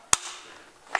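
A single sharp, loud rifle shot from a 14.5-inch barrel firing an SS-109 armor-piercing round at Hardox 500 steel plate, with a brief faint echo or impact just under a second later.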